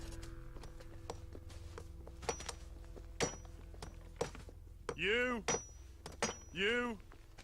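Hammer strikes on rock in the video game Red Dead Redemption 2, a series of sharp, irregular clanks and thunks spaced through the scene, with brief voiced calls between them.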